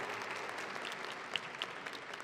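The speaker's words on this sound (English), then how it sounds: "can y'all give a big round of applause for all the staff and your parents and your guardians" Audience applause fills a college graduation ceremony, a steady wash of many hands clapping at moderate distance, with a couple of sharper claps standing out near the end.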